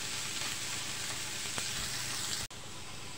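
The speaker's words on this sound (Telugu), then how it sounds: "ఒక మీడియం సైజ్ ఉల్లిపాయ ముక్కలు, 1/2 చెంచా దోరగా ఇలా వేయించుకోవాలి." Chopped medium onion sizzling in a pan, a steady close crackling fry throughout with a brief dip in level near the end.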